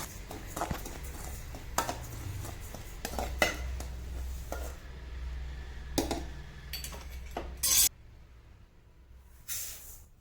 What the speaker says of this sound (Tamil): அதை நல்லா பொரியிற அளவுக்கு வறுத்துக்கிறணும்